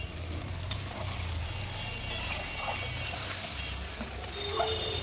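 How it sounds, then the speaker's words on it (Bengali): Ginger-cumin paste and tomato paste with turmeric, salt and water fry in oil in a wok, giving a continuous close sizzle broken by a few sharp spatula scrapes and clinks as the mixture is stirred. "তো তার মধ্যে আমি হলুদ নুন জল দিয়ে এখন কষিয়ে নিচ্ছি।"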